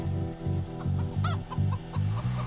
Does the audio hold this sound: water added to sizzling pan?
no